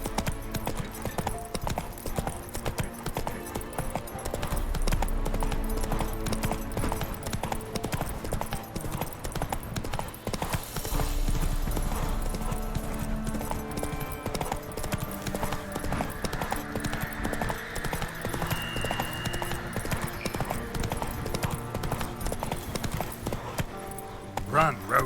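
Roach the horse gallops in The Witcher 3, with rapid, steady clip-clop hoofbeats running nearly the whole time over game ambience and a continuous low rumble.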